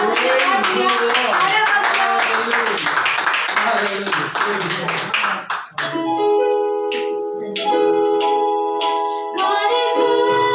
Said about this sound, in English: As we start, shall we give a big clap offering?